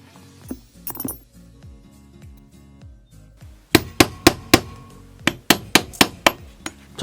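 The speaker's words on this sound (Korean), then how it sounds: "제가 3mm 치질로 한번 구멍을 뚫어 볼게요" A 3mm stitching chisel is struck to punch holes in leather, a run of about a dozen sharp, close mallet blows at a steady rhythm following some quieter handling knocks.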